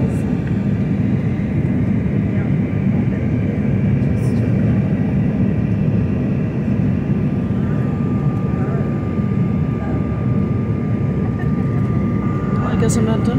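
Airliner engines roar steadily during the climb out after takeoff, a constant broadband cabin drone, with faint voices underneath.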